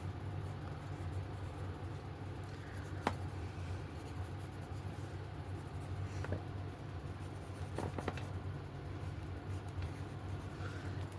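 A pencil sketches the legs of a Five Nights at Freddy's character on paper, producing soft continuous scratching strokes with a few sharper taps, quiet and close, with no talk.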